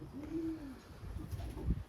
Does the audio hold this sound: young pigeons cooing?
yes